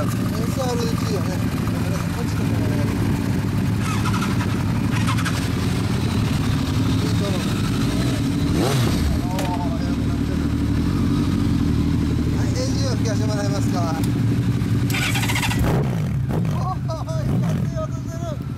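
Loud, continuous motorcycle exhaust roar through a takeyari-style muffler, rising in a few revs over a heavy low rumble, with occasional voices and clanks mixed in.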